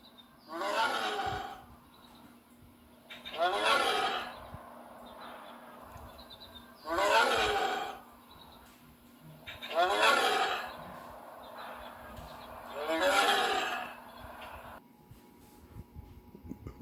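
A voice imitating Vaporeon, the water-type Pokémon, roaring like a lion or tiger: five long, breathy growling roars at regular intervals, each about a second, fairly quiet with soft pauses between.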